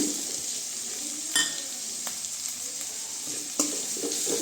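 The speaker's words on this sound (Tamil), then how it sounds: "இது நல்லா வதங்கட்டும்." Tomatoes sautéing in a hot pan with garlic for broad bean thokku, a steady close sizzle and frying hiss with occasional stirring scrapes and light clinks of a utensil against the pan, no talking.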